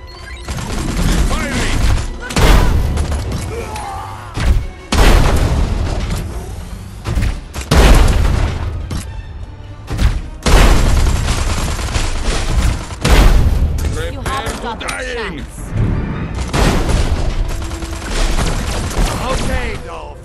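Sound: gunfire from guns in video game Destroy All Humans! 2

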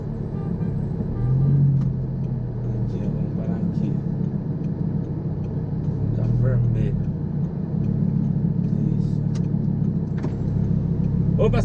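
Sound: Audi R8 car driving

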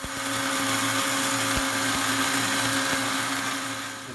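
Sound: mixer grinder grinding roasted wheat into flour

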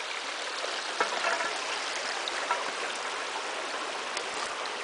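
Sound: brook trout stream flowing water

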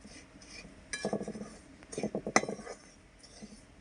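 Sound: spoon mixing semolina (sooji) and sugar in a bowl

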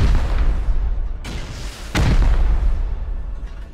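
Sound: rocket explosions from the video game Rust

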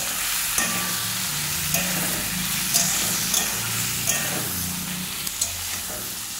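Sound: potatoes and pointed gourd frying in oil

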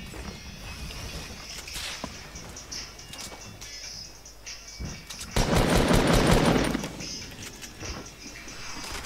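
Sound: gunfire in Fortnite video game

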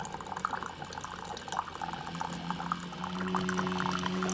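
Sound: pouring coffee from the coffee pot into a mug

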